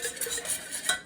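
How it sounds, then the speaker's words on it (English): A spoon stirs sauce in a pan with quick scraping, swishing strokes, close and fairly soft, repeating rhythmically over about a second. "Stir the sauce up."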